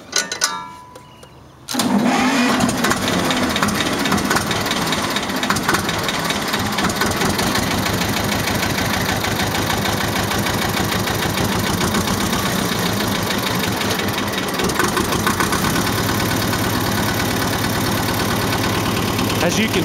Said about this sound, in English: As you can see, the engine is in really good shape,